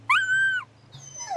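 A dog in the video game Tales of Berseria lets out two high, wavering whimpers, the first long and steady, the second rising then sliding down, loud and close over a low steady game hum.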